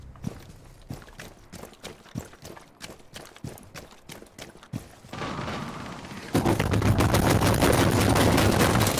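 Rapid bursts of gunfire ring out in a video game match, sharp repeated shots and rattling fusillades in uneven volleys, swelling into a denser, louder barrage of continuous firing toward the end.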